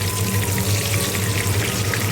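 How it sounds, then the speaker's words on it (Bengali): Pumpkin pieces frying in hot oil in a Bengali kitchen, a continuous close sizzle with a low steady hiss and no talk. "এটা কুমড়ো ভাজা হচ্ছে"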